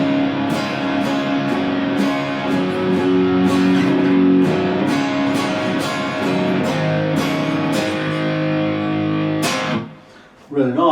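A Squier Classic Vibe 50's Telecaster run through a JHS Angry Charlie drive pedal set to low drive and high volume into a 6505 Mini, playing rhythmic, mildly crunchy chords up close before a short pause and a final struck chord.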